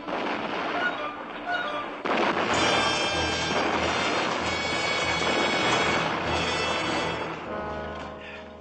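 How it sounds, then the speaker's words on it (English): Deep, sustained rumbling from reactor explosions aboard a submarine, with heavy booming blasts, loud and continuous, rising sharply after a brief lull and fading slightly near the end. "those reactor explosions are going to shake us apart"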